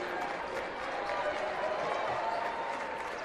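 A home crowd at a North Judson San Pierre boys basketball game applauds steadily, a dense even patter of clapping across a gym, with a commentator talking over it.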